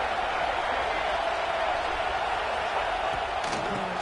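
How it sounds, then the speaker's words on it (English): Loud, raucous crowd roaring continuously at a college football game, a dense sustained wash of cheering with no breaks across the whole stretch. "they try to quiet this raucous, crazy crowd"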